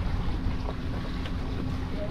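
Strong wind rushing over open water at sea near Fortune Island, a steady buffeting roar with wave wash and boat noise throughout, close to the microphone.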